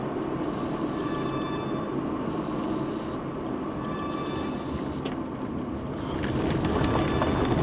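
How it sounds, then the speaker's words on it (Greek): A telephone rings outdoors at a bridge construction site in Farsala, Greece, a steady, continuous ringing that runs through the whole stretch over a broad bed of open-air background noise. "Έχουμε και τα τηλέφωνα τώρα, δεν μπορούμε να απαντήσουμε."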